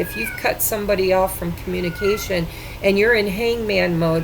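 A cat meows several times close by, the cries rising and falling under a woman's continuous speech.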